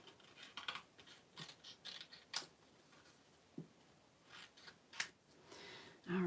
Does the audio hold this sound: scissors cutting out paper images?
yes